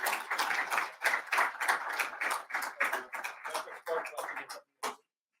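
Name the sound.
audience applause for keynote speaker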